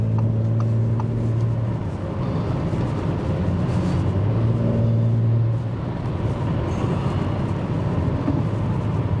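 A 2017 Audi S5 Coupé with over 300 horsepower cruising on a busy motorway: a steady, even cabin drone of engine and tire roar with no speech, holding at a constant level throughout.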